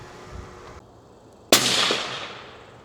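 A Savage rifle in 6 ARC with a hunter profile barrel fires one round of Hornady ELD Match ammunition, a single sharp, loud crack followed by a fading echo, with quiet ambient noise before the shot.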